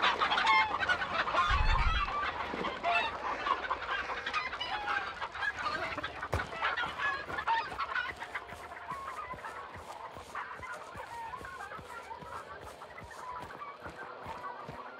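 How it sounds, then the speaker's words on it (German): Ravens in the video game Hunt Showdown caw and squawk in a loud burst at first, then keep up a busier scatter of rasping calls and flutters that fade gradually over time. "Sind Raben da hinten."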